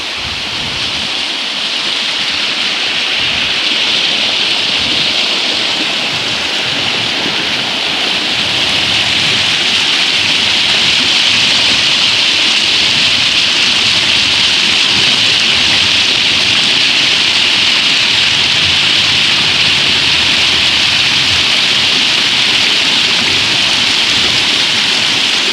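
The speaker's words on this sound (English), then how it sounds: "Nothing better than the soothing sound of flowing" Water flows steadily near a sawmill in winter in Acushnet, Massachusetts, a loud, continuous rushing wash that stays even throughout with no voices.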